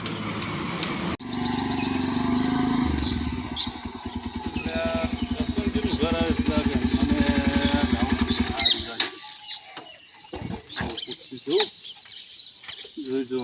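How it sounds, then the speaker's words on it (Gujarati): A motorcycle pulls up with a steady, throbbing engine putter that idles for several seconds and then cuts out, with people talking over it and birds chirping in the background. "બાઈક આવ્યું લાગે એ જ છે"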